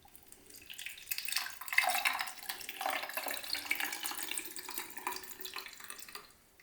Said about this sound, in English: Let's open it, and then you can just put the water in there.